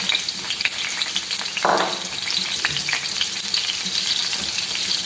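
A steady, crackling sizzle of onions frying in hot oil for masoor dal, with a brief louder hiss as something is stirred or added early on.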